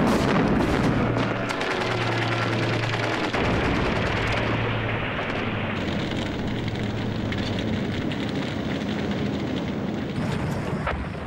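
German gunfire cutting down descending British airborne reinforcements in the Second World War, a dense, loud, continuous roar of firing and blasts throughout.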